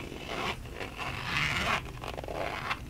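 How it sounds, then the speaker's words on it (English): A zipper slid open along a cowhide leather pen case, a close, raspy scraping run with a couple of short pulls. "very nice zipper pull there"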